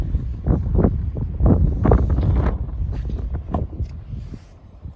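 Gusty night wind rumbles around a barn, buffeting the microphone in uneven low surges that swell and fade over a few seconds.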